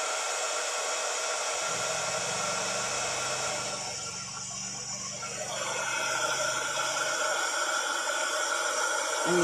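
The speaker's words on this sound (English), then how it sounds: "do not hold your heat tool. You'll have to excuse me for a minute for the noise." An embossing heat tool blows a steady, loud whooshing stream of hot air, continuous throughout with a slight dip in the middle, and no talk over it.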